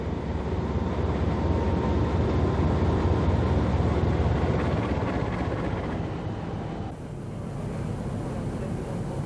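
Narrow-gauge diesel train running through tropical Indonesia, a continuous loud rumbling roar of engine and wheels that holds steady before dropping off abruptly near the end.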